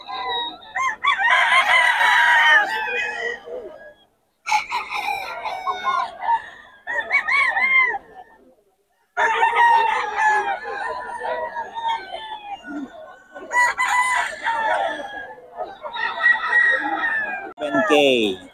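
A Sweater gamefowl rooster, a three-year-old Boston Sweater, crows repeatedly, loud and close, at a busy Bocaue market, with clucking and other fowl around it and bursts of crowing filling most of the stretch.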